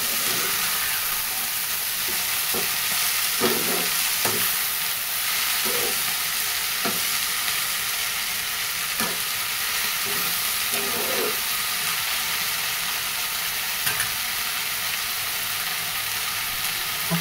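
Vegetables stir-fried in a pan for a breakfast wild-greens bhaji, with a steady sizzle and hiss throughout and repeated scraping, clattering stirs of a spatula against the pan.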